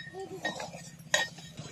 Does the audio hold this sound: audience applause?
no